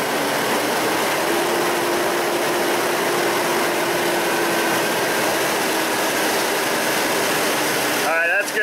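A Mazda B3000 pickup engine with a lean-running misfire holds a steady fast idle near 2,000 RPM, a constant loud mechanical drone and hum that run unbroken for several seconds before a brief disturbance at the end.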